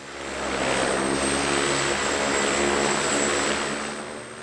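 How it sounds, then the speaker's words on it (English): A Twin Otter seaplane of Trans-Maldivian Airlines flies past at a Maldives resort, its propeller engine drone loud and steady, swelling and easing over a few seconds with no talk. "There's a constant stream of seaplanes coming and going, usually in the afternoon, but sometimes in the morning as well"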